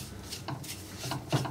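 Spoon scraping and stirring a dry mix of salt and amchur spices in a pan over a low gas flame for potato vada, a few soft rhythmic rubbing strokes close by.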